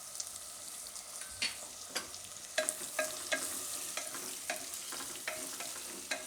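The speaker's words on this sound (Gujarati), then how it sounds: "તો હળદર નાખી દઈશું, ધાણા જીરું, અને લાલ મરચું થોડુંક ઉપરથી નાખીશું વઘારમાં" Turmeric, coriander-cumin powder and red chili sizzle in hot tempering oil for suran khichdi, a soft steady fry broken by repeated scraping stirs of a spoon against the pan.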